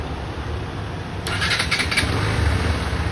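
Bajaj Pulsar motorcycle engine starting: a brief starter whir and catch, then a steady low idle rumble continuing up close.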